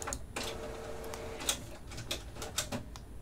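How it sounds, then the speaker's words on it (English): A printer runs quietly in the background with soft mechanical whirring and a few sharp ticks and clacks at irregular intervals, and no one speaks. "Apologize for my impudent printer in the background there."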